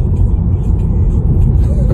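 A Tesla Model 3 speeding up under Full Self Driving after a turn at a green light, giving a steady loud low road and motor rumble from inside the car, no speech.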